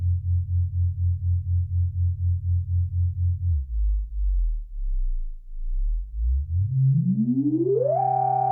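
A Minimoog Model D synthesizer plays a steady, pulsing low tone through its filter, drops to a deeper drone, then glides upward in a smooth rising sweep that ends on a brighter sustained pitch. There are no voices.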